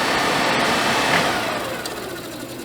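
The fan motor of a Suburban RV furnace runs rough with a continuous whirring, slightly rattling drone, close and steady before easing off a little.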